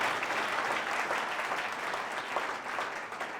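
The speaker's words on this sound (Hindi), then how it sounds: "जोर से ताली बजाकर यीशु का धन्यवाद कर सकते हैं।" A worship congregation claps loudly and continuously to thank Jesus, a full, sustained roar of applause with no one speaking over it.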